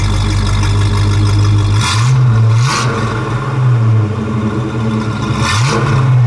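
1969 Buick Skylark V8 with a two-barrel carburetor and dual exhausts, revved from a rumbling idle in three quick blips that rise and fall back, loud and close with no talking.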